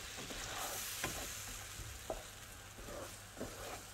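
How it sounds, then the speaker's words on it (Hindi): Tomatoes fry in a pan over a high flame while a Turkish breakfast is cooked at home, giving a steady close sizzle with occasional stirring clicks and scrapes. "हाई फ्लेम पे मैं इसको पका रही हूँ ताकि बस जल्दी से बन जाए"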